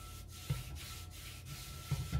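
Oil being rubbed onto a cast iron skillet by hand, soft, quiet, close rubbing strokes in a rhythmic back-and-forth with a few louder swipes.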